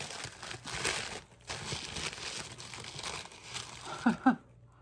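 Packaging and wrappers being unwrapped crinkle and rustle softly and close by in uneven bursts, ending with two louder crackling crunches.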